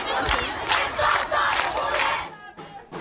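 Students marching at an anti-government protest in Iran clap and chant slogans, a loud crowd shouting in repeated rhythmic surges that drop off near the end.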